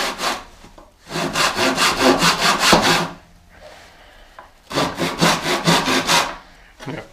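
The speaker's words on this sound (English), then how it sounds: "And the idea with the sawing is that you want to go in this way, down" Hand saw cutting through wood down to a marked line during workbench building: two bursts of steady rhythmic back-and-forth strokes, close and loud, separated by a quieter pause, with no talking.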